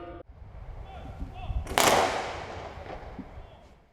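A ceremonial gun salute rings out at a Buddhist memorial service for Korean War dead, one sharp loud report followed by a long rolling echo that fades slowly over outdoor ambience.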